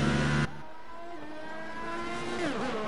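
Race car engines in an F1 video game's Australian round give a steady, moderately loud high-pitched whine that swells and shifts pitch late on, after a brief louder burst at the start.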